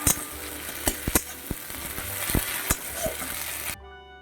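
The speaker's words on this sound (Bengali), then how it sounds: "তো একটু নাড়িয়ে চাড়িয়ে কষিয়ে নেব মশলাটাকে। 1 মিনিট একটু কষিয়ে নিই," Spice paste frying and being stirred in a pan for a prawn dish, a steady close sizzle broken by sharp scrapes and knocks of the spoon, ending abruptly.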